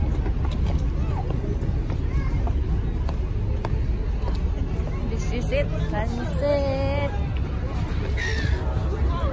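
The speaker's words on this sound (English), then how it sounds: "so andyan na yung boat" A river cruise boat's engine drones steadily close by on the Yarra River in Melbourne, with a crowd of voices chattering around it and some tonal sounds near the end.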